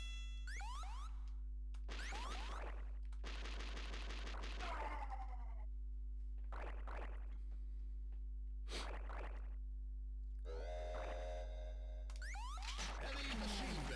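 Heavy machine gun fire in the Metal Slug 4 arcade game comes in several short rapid bursts separated by gaps, over a steady game soundtrack with springy bouncing effects.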